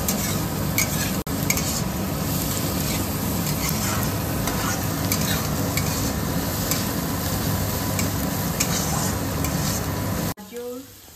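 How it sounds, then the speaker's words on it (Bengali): Carrots and onions fry in a pan for a chowmein dish, giving a steady, close sizzle with frequent stirring scrapes and clinks throughout, ending abruptly near the finish. "একটুখানি সল্ট দিয়ে দেবো, তারপরে সবজিগুলো ধীরে ধীরে ভেজে"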